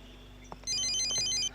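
A mobile phone rings in a classroom with a bright, fast electronic ringtone that starts abruptly after a faint knock and repeats its beeping pattern at a steady, loud level.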